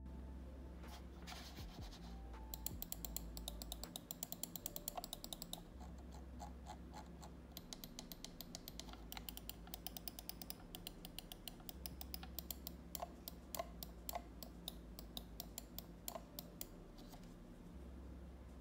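Button clicks on an Endgear XM1R wired computer mouse, a quiet, steady run of sharp close clicks repeating over about eighteen seconds, alone with no talk.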